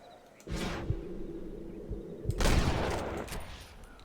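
Gunfire aimed at a vulture in the video game Red Dead Redemption: a couple of loud, sharp blasts with echoing tails, the second followed by a longer rumbling burst, with no talking.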